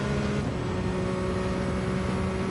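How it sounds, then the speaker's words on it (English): Peugeot hypercar engine in Gran Turismo 7, holding a steady droning hum at a constant pitch, loud and continuous with no voices over it. "listen to the machine, the Peugeot engine"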